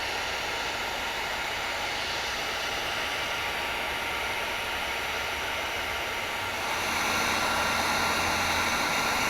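Heat gun running continuously as window tint film is heated on the outside of a 2020 Nissan Altima's glass, a steady close airy roar that grows slightly louder near the end, with no talking.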